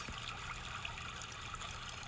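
A forest stream trickles in a soft, steady wash of water, faint and continuous with no other sounds standing out.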